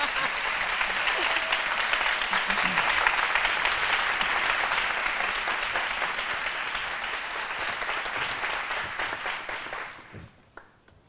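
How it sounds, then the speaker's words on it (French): Loud, sustained applause from a studio audience on a midday TV show, a thick continuous roar of clapping that fades out abruptly near the end. "On l'applaudit très fort."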